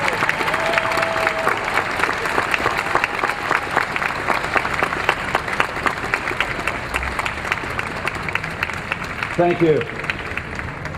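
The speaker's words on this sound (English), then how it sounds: "Big, robust applause." An audience at a law school commencement applauds families, a broad, steady wash of clapping from a large crowd that rolls on throughout, with a brief spoken voice near the end.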